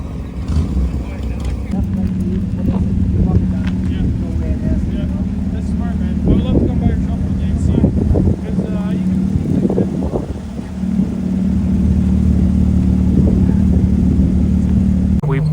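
A Ferrari LaFerrari supercar pulls away from a busy Toronto car meet, a loud sustained engine drone with rising revs that holds throughout, while people talk nearby.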